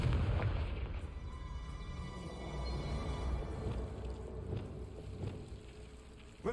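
A Confringo spell blast in the video game Hogwarts Legacy: a deep booming burst that opens loud and rolls into a long, fading rumble.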